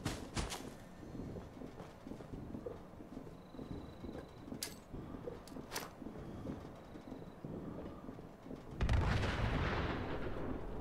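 Grenade blasts and gunfire in the Fallout 76 video game, a series of sharp booming bursts spread across the clip, with a heavier rumbling explosion near the end, all without talk.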